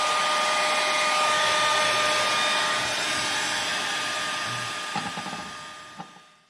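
A hair dryer blows steadily on wet watercolor paint, a loud, continuous broadband whoosh that holds for about five seconds, then tapers off with a few small knocks near the end.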